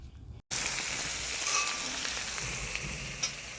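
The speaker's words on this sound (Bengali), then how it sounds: "পেঁয়াজ রসুন আদা, ভালো করে নেড়ে চেড়ে ভেজে নেব।" Onion, garlic and ginger sizzle steadily as they are stirred and fried in a pan, a continuous close frying hiss with faint scraping, with no voices.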